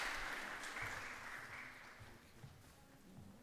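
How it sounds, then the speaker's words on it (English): Conference audience applauding a keynote speaker, steady dense clapping from a crowd sustained throughout, fairly loud and even. "Please, a warm round of applause for Mr."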